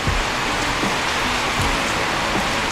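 Steady hiss of rain falling outside with gusting wind, a broad continuous wash of noise with scattered low drops and thumps, close and fairly loud, no voices.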